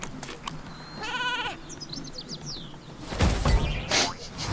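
Sheep bleats in the Skylanders Trap Team video game, a quavering cry near the start and again around the middle, followed by louder game effects and thumps.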